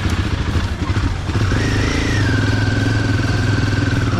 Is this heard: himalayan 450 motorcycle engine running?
yes